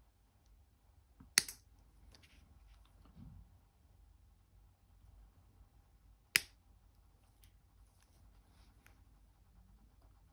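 Wire snipped with cutters while making chain links, two sharp isolated clicks several seconds apart, close and crisp against a quiet background.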